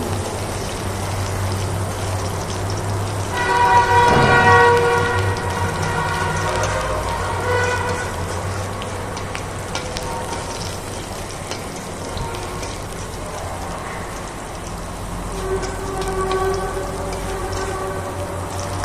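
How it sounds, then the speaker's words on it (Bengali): Chopped onion and garlic fry in oil while being stirred, a soft, continuous crackling sizzle with occasional clinks and scrapes of the utensil, steady and moderately near throughout. "এবার এই পেঁয়াজ আর রসুনগুলোকে ভালোভাবে নাড়তে হবে যতক্ষণ এটা ব্রাউন হয়ে আসে"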